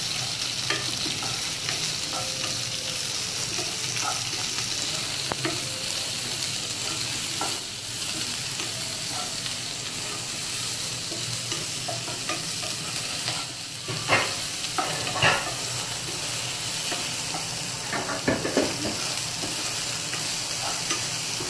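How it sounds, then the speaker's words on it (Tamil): A large chopped onion sautés in a pan for a Tamil fish curry, giving a steady close sizzle and frying hiss broken by occasional scraping stirs of a spoon, with no voices. "வச்சிருக்க ஒரு பெரிய வெங்காயத்தை போட்டு நல்லா பொன்னிறமா வர வரைக்கும் நம்ம வதக்கணும்."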